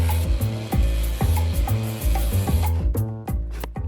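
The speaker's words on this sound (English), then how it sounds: "the edge must be sanded down and burnished" Rhythmic rasping strokes from sanding a leather edge on a headphone mod, a steady back-and-forth rubbing repeated several times a second, loud and close with no voices.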